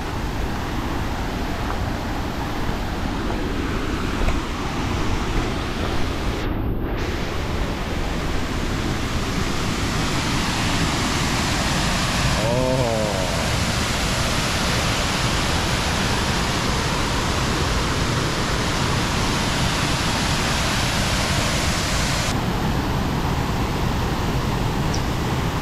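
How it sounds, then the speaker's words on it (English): An overflowing waterfall roars in a dense, steady wash of noise that fills the scene without letup, heard close and loud with no talking over it. "we picked the right day to go and see the waterfall"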